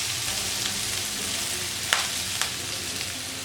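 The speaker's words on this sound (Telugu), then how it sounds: "ఆనియన్స్ కొద్దిగా దూరగా వేగాయి. ఇప్పుడు ఇందులో కరివేపాకు వేసుకున్నాము." Onions and curry leaves frying in hot oil for Andhra-style chamadumpa pulusu, a steady close sizzle with a few sharp crackles and pops as the leaves hit the pan.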